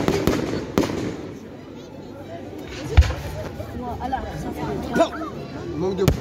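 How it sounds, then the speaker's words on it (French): Fireworks crackle and pop at a distance, with a few sharper bangs, while a crowd chatters and people talk close by, at a fireworks display in Combourg, Brittany. "On met des feux d'artifice."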